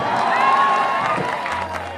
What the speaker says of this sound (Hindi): एक जोरदार ताली से इनका स्वागत करना चाहिए आप सबको